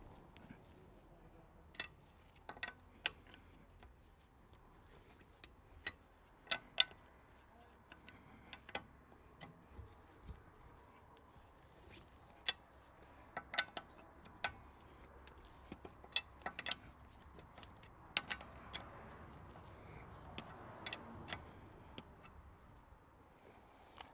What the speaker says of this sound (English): start to just loosen off the wheel bolts by half turn